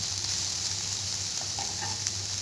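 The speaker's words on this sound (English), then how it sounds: "So we will let the onion cook for a couple of minutes" Onion fries in a pan over medium heat, giving a steady, close, even hiss with faint crackles and a light scrape of stirring near the end.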